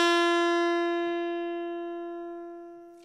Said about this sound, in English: Now, the same note on the guitar sounds like this.